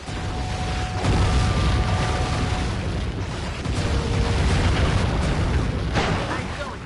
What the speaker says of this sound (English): Murray rows and Sly mans the cannon. Hold down the R1 button to charge the shot and shoot farther.